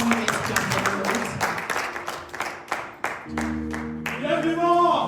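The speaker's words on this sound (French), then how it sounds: "let's clap for the Lord" Church congregation clapping in steady rhythm during a lively French worship song, with singing voices rising over the claps toward the end.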